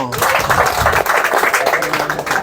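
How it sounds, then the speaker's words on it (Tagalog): Crowd at a graduation gathering clapping in congratulations, a loud close burst of rhythmic hand claps mixed with a few voices. "palakpak kayo."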